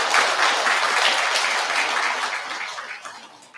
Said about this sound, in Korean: 이 고생하신 또 보시하신 분한테 큰 박수 부탁드리겠습니다